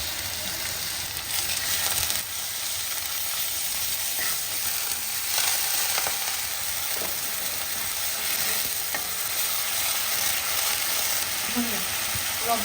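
Turmeric, ginger paste and spices frying in oil in a home kitchen, a steady close sizzle with scraping stirring strokes throughout, no voices.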